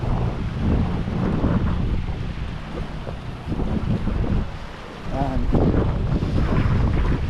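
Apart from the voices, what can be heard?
high sea water, waves and wind at shore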